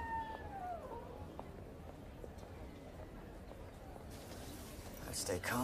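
A cat gives a faint meow or two, quiet and in the background of a scene with some rustling and a brief clatter near the end.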